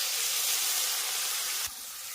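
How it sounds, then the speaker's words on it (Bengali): A steady, soft hiss of spice paste frying in a pan with fried aubergine and prawns lasts about two seconds. It is even and unbroken, then dips slightly near the end. "এবার মশলাটা দিয়ে খুব ভালো করে কষিয়ে নিচ্ছি"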